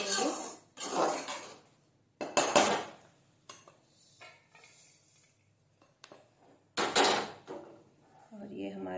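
Cooked atta panjiri, a wheat-flour prasad, is scraped from a hot kadhai into another vessel. Metal utensils clatter and scrape in short bursts, with a person talking over and between the sounds.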